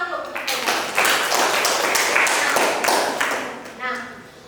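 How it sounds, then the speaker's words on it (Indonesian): A classroom group claps for a student after a statistics lesson answer, a brief dense burst of hand claps lasting a few seconds and then tapering off, with speech mixed in. "Tepuk tangan dulu."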